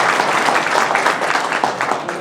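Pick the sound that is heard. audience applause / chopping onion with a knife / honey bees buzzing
audience applause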